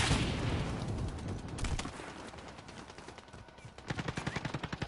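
Video game gunfire: heavy, dense shooting at first, easing, then rapid automatic bursts of evenly spaced shots toward the end, loud and close.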